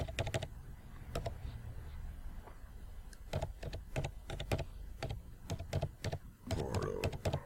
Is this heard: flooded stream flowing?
no